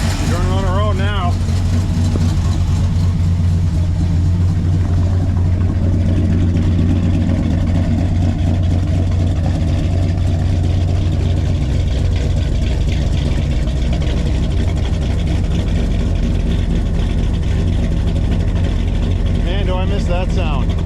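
A 1987 Chevrolet Squarebody pickup with a fuel leak drives on the road, its engine a loud, steady, close low drone throughout, with brief voice sounds near the start and end.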